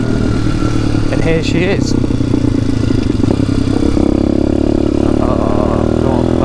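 A Demon X 170 motorcycle engine runs close by, a loud continuous drone with clattery revving and shifting pitch, freshly restarted after new brake pads were fitted on a private road. Someone talks briefly over it.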